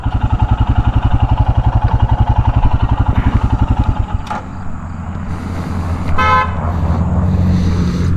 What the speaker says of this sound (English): Apparently they all honk.